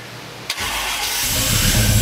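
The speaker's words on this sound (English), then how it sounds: "I've finished the installation of the MSD Atomic EFI, checked for fuel leaks, and it fired right up." Car engine fitted with MSD Atomic EFI fuel injection starting up: a brief crank, then it catches and settles into a loud, steady, rough-edged idle close by.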